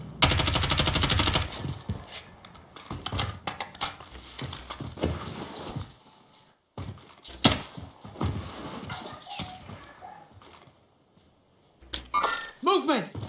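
Video game shooter gunfire: repeated bursts of automatic fire and sharp single shots, loud and close, broken up by short gaps, with voices calling out between the shots.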